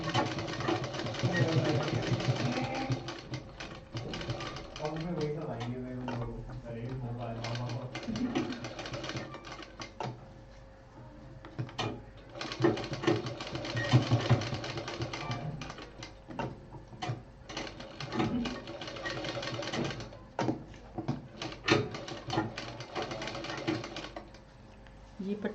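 A sewing machine stitching a doubled five-inch fabric strip for a hanging pouch, its rapid mechanical clatter running in stop-start bursts close by, with pauses of quieter handling between runs.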